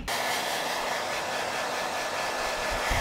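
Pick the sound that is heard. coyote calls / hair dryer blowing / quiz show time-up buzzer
hair dryer blowing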